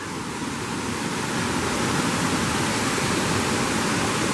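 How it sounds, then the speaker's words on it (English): A waterfall at Glen Onoko Falls rushes with a dense, constant roar of falling water, loud and close, heard from the top of the falls, with no other sounds. "Right here is the top of the first waterfall, the top waterfall."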